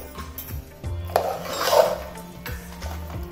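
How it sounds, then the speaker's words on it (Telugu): Curd is stirred into cooled cooked rice in a metal vessel, giving close scraping and mixing sounds with a few sharp clinks of a spoon against the pot. "పక్కన చల్లార్చి పెట్టుకున్న అన్నంలో ఈ పెరుగును కలుపుకుందాం"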